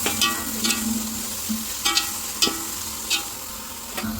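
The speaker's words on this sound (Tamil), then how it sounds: "இஞ்சி ஆட் பண்ணி நல்லா வதக்கும் 2 நிமிஷத்துக்கு." Ginger sautéing in an oiled pan for Ambur-style mutton biryani, a steady low sizzle broken by repeated scraping stir strokes of a spoon against the pan, roughly one every half second to a second, close and moderately loud.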